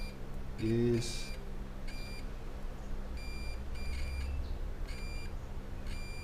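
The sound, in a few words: multimeter continuity tester beeping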